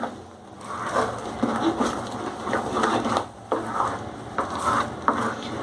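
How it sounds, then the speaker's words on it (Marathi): Moong dal halwa mixture being stirred in a pan over low heat, soft repeated scraping and shuffling strokes with a faint sizzle underneath, close and uneven in rhythm. "दोन मिनिटानंतर झाकण काढायचं मिश्रण हलवून घ्यायचं"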